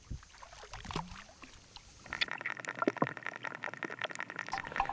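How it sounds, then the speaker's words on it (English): Underwater freshwater ambience picked up by an Aquabeat hydrophone: soft bloops, faint clicks and ticking plant sounds, quiet and close, with a denser burst of bubbly crackle in the second half. "here we're hearing bloop, water sounds, plant sounds"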